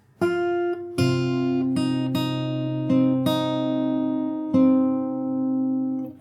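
Fingerstyle acoustic guitar plays a slow passage, with about seven plucked notes and chords, each ringing out and overlapping. The playing is close and clear, with no voices.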